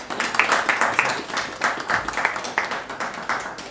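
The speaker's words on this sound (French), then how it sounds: "on peut l'applaudir, je pense" Audience applause for a talented young entrepreneur at a live presentation, a steady patter of many hands clapping at moderate volume for several seconds, with no voices over it.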